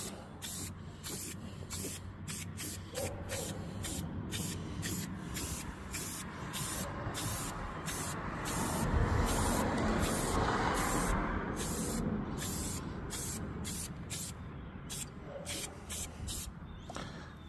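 A wax rust-proofing coating is sprayed into the wheel wells of a 2025 Chevy 2500HD truck. It sounds like a steady close hiss broken into many short pulsed bursts, with one longer continuous spray in the middle.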